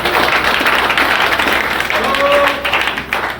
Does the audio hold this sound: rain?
no